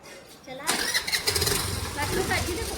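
A Honda Activa scooter engine cranks and catches, then runs with a steady buzzing idle close by, while family members chatter over the motor.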